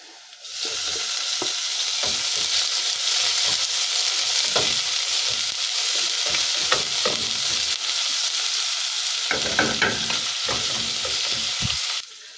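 Ground meat sizzles loudly in a pan with garlic and onion, a dense continuous frying crackle with repeated scraping stirs of a spatula throughout, close and clear with no voices.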